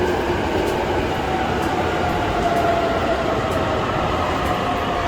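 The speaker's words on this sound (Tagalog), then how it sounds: "Ayun yung train na isa." Inside a moving MRT train carriage, a constant loud rumble of wheels on rail with steady mechanical noise, close and continuous, with no clear speech above it.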